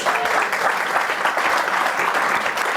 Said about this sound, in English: Let's give him another round of applause for Charlie Harary.